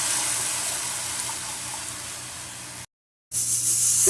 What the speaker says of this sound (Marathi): पातळ पिठलं करतोय त्यामुळे आता कांदा भाजल्यात गरम पाणी घालायचं